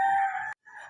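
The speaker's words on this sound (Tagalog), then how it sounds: "Dalagang manok na siya." A young hen's short vocalization with a bright, tonal call that drops out briefly and returns more softly, close and clear with no talking.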